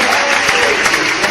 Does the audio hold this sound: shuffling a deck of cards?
no